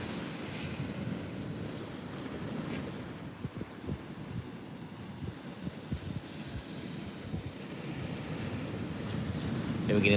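Morning waves wash softly onto the shore at Muaro Bayang beach, Pesisir Selatan, West Sumatra, with steady wind noise, the surf rising a little toward the end.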